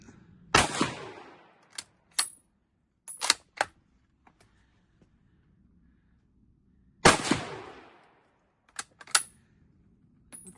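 Shots from a Winchester 1897 pump shotgun at an outdoor range: two loud, sharp blasts about six seconds apart, each followed by several quick metallic clacks of the action being worked and spent shells ejected.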